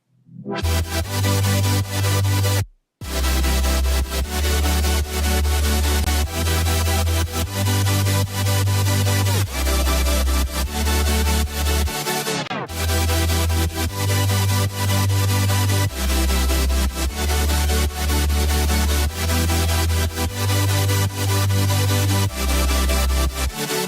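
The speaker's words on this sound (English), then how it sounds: "the next section we're going to have a look at here is the sub bass and the super saw" Soloed sub bass and supersaw synths play together: a thick, bright, buzzing chord stack over a deep sub bass that pulses in a pumping sidechained rhythm, loud and continuous with two brief dropouts and no talk.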